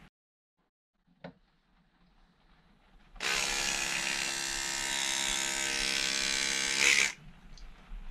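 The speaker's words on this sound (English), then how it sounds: "a Braun battery toothbrush." A Braun battery-powered electric toothbrush buzzes steadily for about four seconds at close range after a brief click, then switches off, with no voices.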